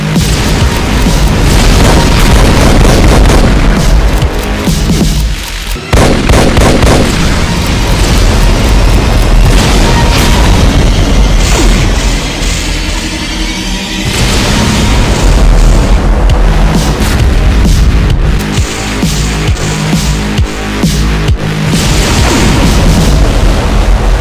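A Mastermind in the Doom mod Complex Clusterf___ fires area-damaging bombs, producing a long, loud, unbroken rumble of overlapping explosions with only a brief gap partway through.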